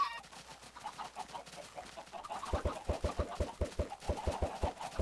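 Minecraft chickens clucking in a game, several short clucks in an irregular then quicker rhythm, close and clear with no talk over them.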